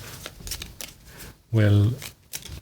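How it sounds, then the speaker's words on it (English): A deck of Dragon Eclipse board game cards gets one quick, loud riffle shuffle, a dense burst of under half a second that rises above soft background voices and handling noise. "I'm just going to give these one last shuffle"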